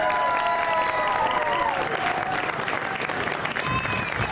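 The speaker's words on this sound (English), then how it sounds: "Let's hear another round of applause for William Drennan." A crowd at an outdoor culture day event keeps up dense, steady clapping throughout. Scattered voices and a few shouts rise over the applause.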